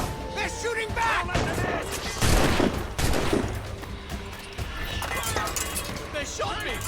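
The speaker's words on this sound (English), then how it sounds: "Fire! I think fire! They're shooting back!" A musket gunfire exchange in Assassin's Creed Rogue, with scattered sharp shots and crashing impacts crackling throughout amid shouting voices and battle commotion.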